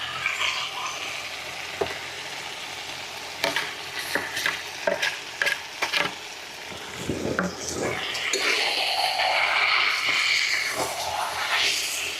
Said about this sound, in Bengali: পালং শাকের সাথে মাংসটা ভালো করে কষায় নিছি